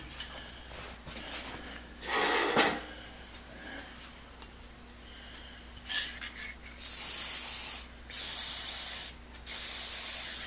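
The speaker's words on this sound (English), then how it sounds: "Use our WD-40 dirt and dust resistant dry lube." WD-40 dirt and dust resistant dry lube is sprayed in several short aerosol bursts, one longer hiss early and a run of quick sprays later, close and crisp against a quiet background hum.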